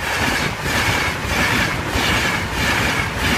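A Class 91 locomotive hauling the West Riding Limited rushes past a level crossing at South Muskham, a loud, close, continuous roar of wheels and rail noise filling the whole stretch.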